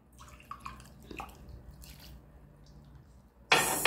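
White vinegar poured from a cup for stain removal on white towels and clothing: after a few quiet drips, a short, loud splashing pour comes at the very end.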